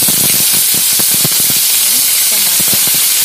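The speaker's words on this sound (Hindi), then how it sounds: "अब हम इसमें डालेंगे हरी मिर्च" Green chillies hitting onions frying in a hot pan, a loud steady hiss and crackle with rapid popping spatters, continuous and close.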